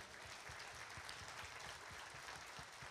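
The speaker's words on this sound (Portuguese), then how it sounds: "peço uma salva de palmas a eles" Audience applause for the deputies at a public security event, a steady dense clapping filling the room and continuing without a break, loud and even throughout with no speech over it.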